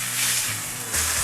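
Meat for a pot roast sears in a pot, giving a steady, bright sizzle with a hissy crackle that swells slightly toward the end, close and alone.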